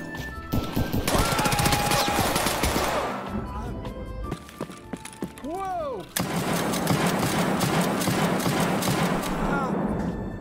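Gunfire bursts in Escape from Tarkov, rapid cracking shots loud and close, with a voice talking over much of it and a short lull midway before shooting resumes.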